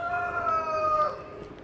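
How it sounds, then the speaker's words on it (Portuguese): A rooster crows at a municipal bird park in Apucarana, a single drawn-out, wavering call at moderate distance that fades over about a second amid faint outdoor ambience. "Olha o galo. Tem um galo aqui"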